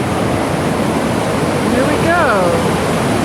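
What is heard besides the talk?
mountain river flowing over rocks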